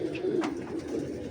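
Ferozpuri pigeons coo softly nearby, a faint low warbling murmur repeating in short pulses with slight background noise.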